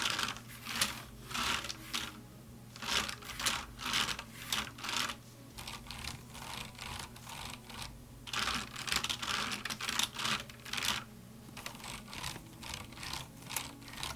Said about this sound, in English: And now I'm going to run my hand over the keys of both boards.